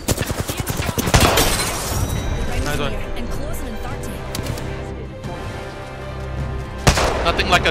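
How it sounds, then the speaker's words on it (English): In the video game Apex Legends, a Kraber sniper rifle fires a headshot in ranked play, loud sharp gun blasts at the start and near the end amid game effects, with people talking throughout. "Nothing like a Kraber headshot to finish the game"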